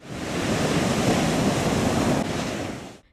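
Sea waves break on the shore at Alanya, a loud, dense, continuous wash of surf with wind noise, with no voices.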